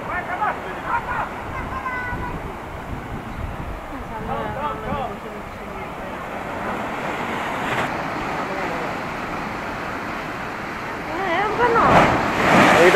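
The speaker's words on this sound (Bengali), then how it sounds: "দেখছেন কিরাম করে উত্তাল জলরাশির ধাক্কা মেরে যাচ্ছে একের পর এক বেলাভূমিতে" Rough sea surf crashes repeatedly onto the beach at Digha, a continuous roar that is buffeted by wind and swells louder near the end, while people talk over it.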